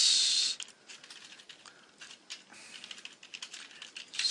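Fingers type a command on a computer keyboard while setting up ownCloud on an Ubuntu server, a steady close patter of keystrokes with a few louder taps at the start and end.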